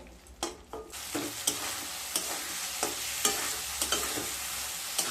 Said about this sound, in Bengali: এবার ভেজে রাখা আলুগুলোকে দিয়ে দেব আলুগুলো দিয়ে আবারও এক মিনিট কষিয়ে নেব